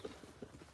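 Horse hooves clip-clopping on the ground, a couple of soft, distant thuds in a slow walking rhythm, faint and brief.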